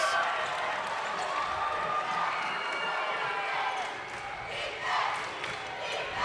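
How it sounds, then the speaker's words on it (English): A crowd cheering in a gym at a high school championship basketball game, Placer Hillmen versus Del Campo Cougars, a sustained roar of voices with swelling shouts, moderately loud and steady throughout. "Crowd really getting into it now."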